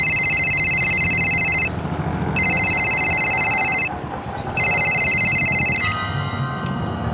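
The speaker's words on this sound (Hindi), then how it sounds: "मेरे पास निहारिका का फोन आ गया" Telephone ringing in a Hindi crime drama episode: three long electronic ring bursts with short gaps between them, loud and close, over faint background noise, ending as the last ring cuts off.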